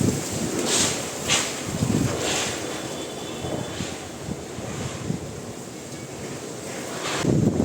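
Strong wind roars and buffets steadily throughout, with rushing gusts swelling and easing, loud and close with no voices.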